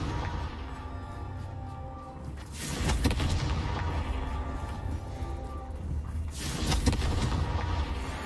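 A Confringo blasting curse in Hogwarts Legacy sets off loud booming explosions. A heavy blast hits, rumbles on for several seconds, and then a second burst follows over a thick bed of game noise.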